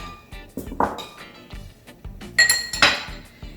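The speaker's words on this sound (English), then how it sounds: "And you want to stir it up." A spoon clinks and scrapes against a glass while Bloody Mary seasonings, including horseradish, are stirred into vodka, several sharp ringing taps and rattles at close range with short pauses between.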